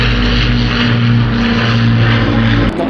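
A Lancaster bomber with propeller engines flies overhead, producing a loud, steady, droning engine roar with a strong low hum that holds throughout.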